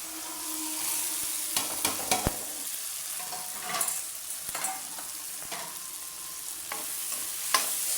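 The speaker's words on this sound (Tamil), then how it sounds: "ஆனியன் போட்டுட்டு நல்லா வதக்கிட்டு சரியாக சூடு பண்ணி கலந்து விடணும்" Onion sizzles and crackles in hot oil with mustard seeds, ginger-garlic paste and green chillies for a capsicum, carrot and bean kichadi. A steady frying hiss runs under scattered scraping stirs, close by, with no talking.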